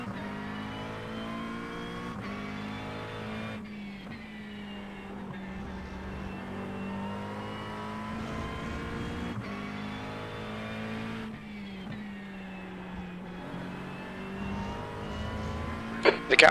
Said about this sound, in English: There's some faster cars approaching.